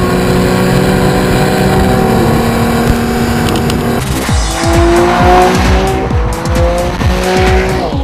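A 2012 Porsche 911 Carrera S engine roars loudly, revving past 6000 rpm through the gears with sharp shifts and a rising, straining pitch, close and without talk.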